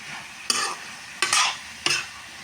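Fried bottle gourd peel scraped and stirred in a hot pan, three sharp sizzling strokes with brief pauses between, close and clear over a low frying hiss, no voices.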